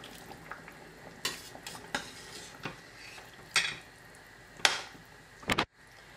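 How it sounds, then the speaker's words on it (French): Cooked chickpeas tipped into a pot of simmering vegetables for a vegetarian couscous, with several clattering spoon-and-pot knocks and scrapes over a faint sizzle, close and without speech. "je rajoute maintenant les pois chiches"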